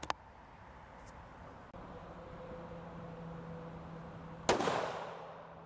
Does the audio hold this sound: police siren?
no